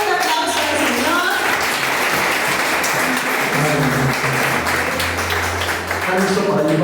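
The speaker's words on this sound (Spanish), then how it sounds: "denle un fuerte aplauso al Señor" A church congregation claps loudly and continuously, the applause dense and near, while a voice speaks or sings over it through much of the stretch.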